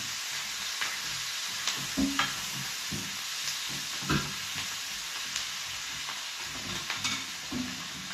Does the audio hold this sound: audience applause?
no